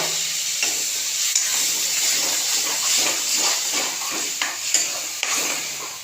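Paste of green chili, onion, garlic and ginger hits fried potatoes in a hot pan, sizzling loudly and steadily while a spoon stirs in repeated scraping strokes up close.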